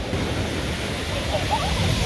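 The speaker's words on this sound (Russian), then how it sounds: "Волны, как обычно, море не утихало." Sea surf rolling onto a beach where loungers are set out, a steady broadband wash with no distinct breaks, moderately loud and continuous throughout.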